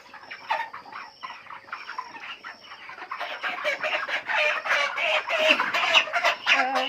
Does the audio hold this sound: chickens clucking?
yes